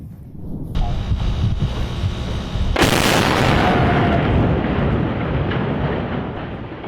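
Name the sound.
big explosions with roaring flames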